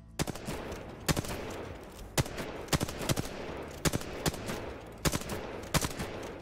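Gunfire in Apex Legends while shooting targets, sharp separate shots and short bursts cracking out at irregular intervals, fairly loud against a quiet game backdrop.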